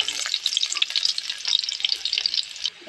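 Two lightly crushed garlic cloves frying in oil for a fish recipe, a steady crackling sizzle with dense bright popping that runs close and fairly loud until it dips near the end, with no voices.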